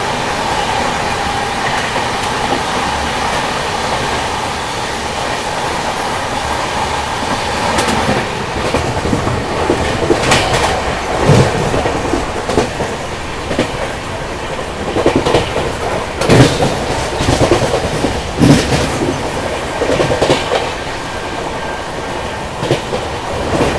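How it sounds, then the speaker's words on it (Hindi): An express train runs at speed as it overtakes the Barmer Guwahati Express, giving a steady, loud rail roar with rhythmic clickety-clack from the wheels and occasional louder rattles. "ये देखो अभी हम लोग ओवरटेक कर रहे हैं बाड़मेर गुवाहाटी एक्सप्रेस को यहाँ पर।"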